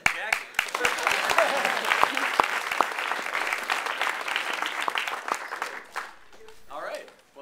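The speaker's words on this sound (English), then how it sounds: "Awesome round of applause for the jacket." Audience at a comics panel breaks into sustained applause with sharp individual claps and cheers, loud and dense, tapering off near the end as a voice starts speaking.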